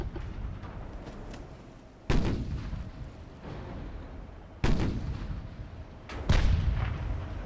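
Main guns of a warship fire in the naval video game Ultimate Admiral: Dreadnoughts. Three loud, booming salvos come a couple of seconds apart, each with a sharp onset and a rolling decay, over a low background rumble, with no voices.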